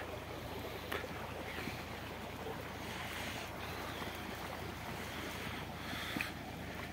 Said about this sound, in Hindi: ए सामने चलता पे ट्यूबवैल